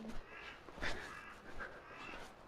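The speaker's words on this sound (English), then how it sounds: "And there's a crow right at the top." A crow caws a couple of times from a rooftop in a quiet town in Kelso, Scottish Borders, the calls short and somewhat distant over faint outdoor ambience.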